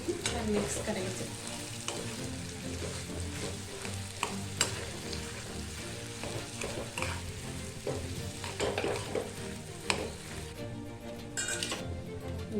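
A mixture of boiled, mashed potato being stirred in a hot kadhai, with a soft continuous sizzle and repeated scraping, tapping strokes of the spoon against the pan.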